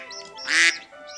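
A duck quacks once, loud and close, a single bright burst set against a soft background of other sounds, with no talking.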